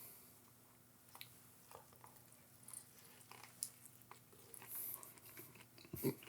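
Crispy fried pork tenderloin with pickles being chewed up close, a few soft crunchy bites and mouth sounds spread across a quiet room with a faint steady hum.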